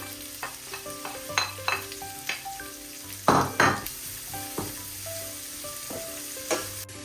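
Onion sautéing in a pan for coconut milk rice with chillies, with a soft background sizzle broken by repeated clinks and scrapes of a spoon stirring against the pan, loudest midway.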